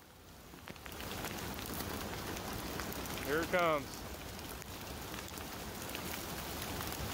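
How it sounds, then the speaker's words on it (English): Steady rain and hail pattering on a surface during a fishing outing in a hailstorm, a continuous hiss throughout with a short burst of talk partway through. "Fishing in the rain."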